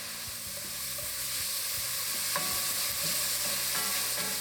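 Garlic sizzling in a pan with peppers, celery and onions for a jalapeño chicken cheddar soup, a steady bright hiss of frying with soft stirring clinks underneath, close and without talk.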